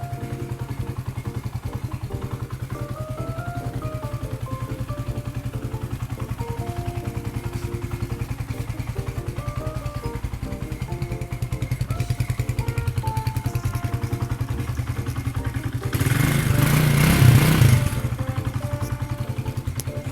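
A 2017 GPX Legend 200 motorcycle idles steadily and close by, a low even engine throb with mechanical clatter, swelling briefly louder near the end before settling back.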